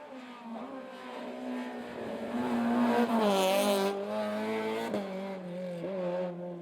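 Ford Escort Mark II rally car at a historic rally in Killarney, Ireland, engine revving hard and shifting through gears on a stage, loud and close, with rising and falling pitch as it accelerates.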